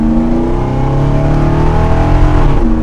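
A 1937 Dodge Coupe's engine revs and pulls hard, a loud, close, sustained roar climbing in pitch, with a hint of tire squeal as it accelerates.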